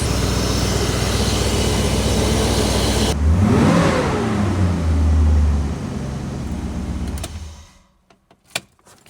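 A rebuilt old BMW engine turns over and catches with a rough surge, idles with a low steady rumble, then dies away into near silence with a couple of sharp clicks at the end.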